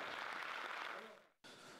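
An audience applauds at the end of a speech, a dense, steady wash of clapping that fades slightly before cutting off abruptly, then resumes briefly.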